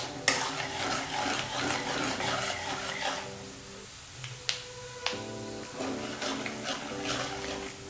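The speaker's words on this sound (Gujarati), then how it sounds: "આ બંને વસ્તુને સરસ રીતે શેકી લેવાની છે." Peanuts and roasted chana dal being roasted in a pan, with a soft scraping stir and a few sharp clinks of the spoon against the metal over a faint background.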